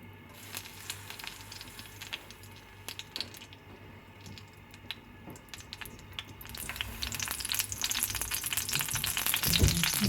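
Ghee heating in a kadai over a medium flame, with a steady soft sizzle and crackle that grows denser and louder toward the end, ending in a few sharper pops.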